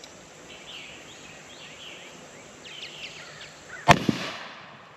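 A single 20 gauge shotgun shot from a shell with some BBs removed cracks loudly once near the end, with a short echo trailing off, after quiet outdoor ambience with birds calling in the background.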